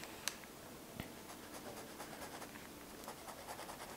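A Sailor fountain pen with a medium fine nib scratching across paper in soft, close strokes, faint and steady, with a couple of small taps, no talk.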